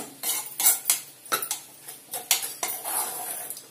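Ponnaganti greens curry stirred in a pot, a series of close metallic clinks and scrapes of a utensil against the vessel in an uneven rhythm, with a faint sizzle beneath.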